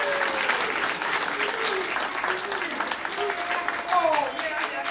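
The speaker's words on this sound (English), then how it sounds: "please stop applauding" A theater audience applauds steadily for a costumed wood snake character at a Year of the Snake celebration, a dense wash of clapping with a voice talking over it throughout.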